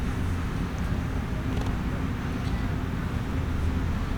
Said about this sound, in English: No, just the traffic.